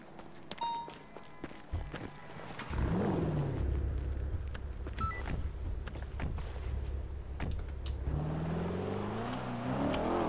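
A car drives down a slope, its engine rising into a steady rumble after a few thumps and footsteps, then revving higher toward the end.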